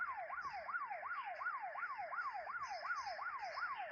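A police car siren in a video game wails in a steady, rapid rising-and-falling cycle, loud and continuous with no talk over it.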